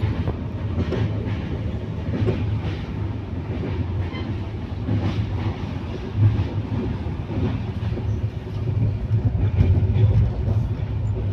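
Inside a moving train, a steady low rumble of wheels on track goes on throughout, with faint rhythmic clatter and no clear talk.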